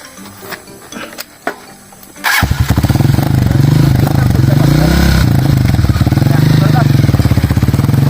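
A motorcycle engine starts after some faint background clatter and talk, then runs loud and close with a rapid steady chugging beat, apparently a habal-habal motorbike.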